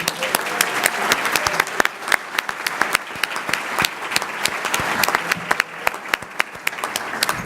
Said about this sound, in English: can we get one more round of applause for all of our winners?